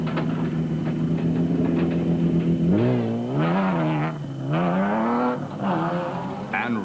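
The Ford Ranger race truck's engine drones steadily in the Carnival City 400 off-road race of 2007, then revs up and down in several rising and falling surges, loud and close.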